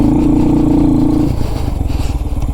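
A small Honda Grom motorbike engine drones steadily up close, its buzzing note shifting and sputtering as it passes by.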